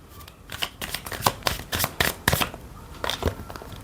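A deck of oracle cards being shuffled during a reading: a quick run of crisp, papery riffles and slaps that repeats in bursts for a few seconds, close and clear with no talking.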